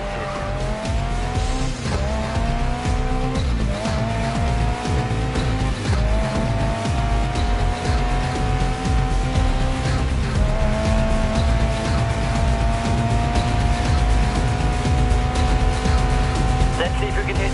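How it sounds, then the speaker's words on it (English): Race car in the Grid Legends video game sliding around a corner on the handbrake, with a loud continuous engine drone rising and falling through gear changes and tire noise, steady throughout; a voice talks over it. "If you want to try a corner with a touch of handbrake, I'd like to see you control the slide"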